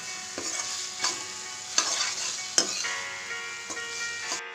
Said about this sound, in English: I'm then going to mix this well with onions.